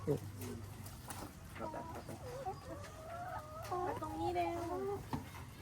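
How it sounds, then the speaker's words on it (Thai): Several chickens cluck and murmur softly at close range inside a coop, overlapping in irregular bursts against a quiet background hum. "พี่ใหม่เดี๋ยวเข้าไปในกรงไก่ละ"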